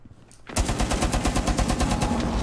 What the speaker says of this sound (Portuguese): tem tiro vindo aqui, ó